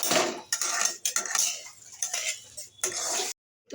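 Vermicelli payesh cooking in a pot, with repeated close metallic clinks and scrapes of a spoon against the pot broken by short pauses.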